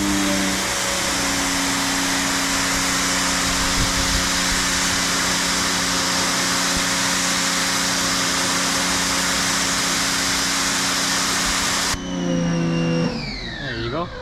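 A Giraffe Tools 2200 PSI wall-mounted pressure washer fitted with a 25-degree nozzle sprays steadily for about twelve seconds with a loud, constant hiss and pump drone, then cuts off abruptly as the motor winds down.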